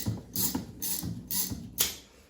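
A 17mm wrench, backed by a vice grip, loosens the rear suspension top mount on a VW Mk1, giving four close, rhythmic bursts of metallic ratcheting clicks with brief pauses between them and no talk.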